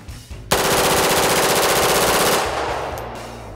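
Rapid automatic gunfire on a film set, one loud sustained burst of about two seconds that starts abruptly and cuts off, followed by a fading echo.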